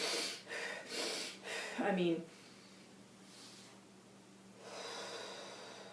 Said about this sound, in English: You'd be amazed what 10 calming breaths will do.